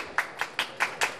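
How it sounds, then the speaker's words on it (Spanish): An audience clapping in rhythm: five evenly spaced, sharp group claps about a fifth of a second apart, moderately loud over a quiet room, with no one talking. "el pueblo aplaude"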